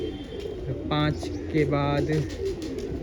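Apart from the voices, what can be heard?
pigeons cooing in a rooftop loft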